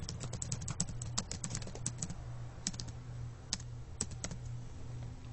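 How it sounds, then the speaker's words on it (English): An address is typed on a computer keyboard, a run of close, crisp key clicks in uneven bursts with short pauses, over a faint steady background hum. "So just type in the address"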